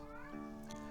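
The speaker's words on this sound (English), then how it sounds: "I'm sure you can hear my cat in the background." A cat meows once, a drawn-out rising call over a steady low hum in the room, with no talking.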